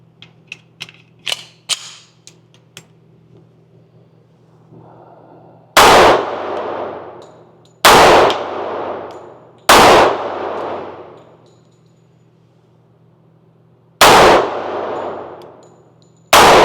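Loud, sharp pistol shots from a Springfield 1911 Omega ported 10mm, five reports spaced a couple of seconds apart, each ringing out with a decaying tail after a few faint clicks and handling sounds.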